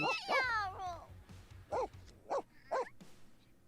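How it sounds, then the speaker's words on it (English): Dogs in The Sims 4 playing roughly, a whining yelp followed by a series of short sharp barks and yips at a moderate distance, with no talk. "Dogs are trying to play with Greg, but it sounds like they're doing more damage."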